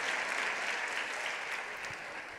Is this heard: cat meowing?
no